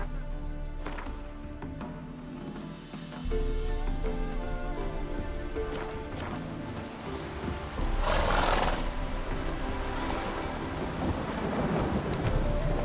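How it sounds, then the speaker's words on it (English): Heavy rain pours steadily in The Witcher 3 video game while deep rolling thunder rumbles, swelling louder partway through with a loud crack, a dense continuous downpour with no talk. "No use doing any work in this rain. Cloud must have burst."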